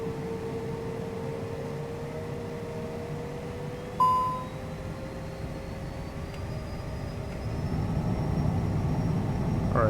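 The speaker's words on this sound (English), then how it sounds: "we're going to move the throttles all the way up to the takeoff detent, and that'll determine our like thrust or whatever for takeoff" Twin jet engines of a Citation CJ4 in Microsoft Flight Simulator spool toward takeoff thrust in stormy weather, a steady broadband roar with rising whine. A short beep cuts in partway through, and the noise builds louder toward the end.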